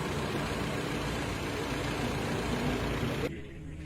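A car engine idles steadily on plain fuel with no hydrogen generator fitted, a continuous low rumble that drops abruptly in level near the end.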